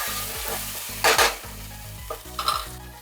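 Rice with paprika being stirred in a sizzling pan, with a steady frying hiss under repeated scraping strokes of a utensil and a few louder clattering stirs near the middle and end.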